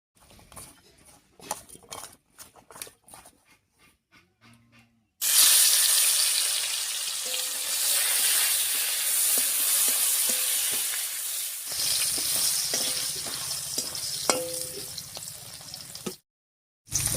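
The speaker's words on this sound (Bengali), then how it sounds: "এবার শুটকি মাছটা লবণ হলুদ দিয়ে মেখে আমি তেলের উপর দিয়ে দিচ্ছি" Dried fish rubbed with salt and turmeric drops into hot oil and bursts into a loud, steady sizzle that lasts about ten seconds, following some soft clattering, with no talking.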